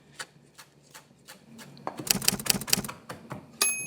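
A knife chops parsley gathered into a tight ball on a cutting board, cooking for a potato salad. A quick burst of sharp, evenly spaced cuts follows a few scattered taps, close and clear, with no talking.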